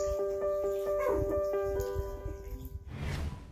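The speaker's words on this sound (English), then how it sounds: "It's asking for help by barking loudly" A husky stranded at the top of an electricity pylon gives a series of yelping, whining barks over a tonal background hum, then a burst of broadband noise near the end.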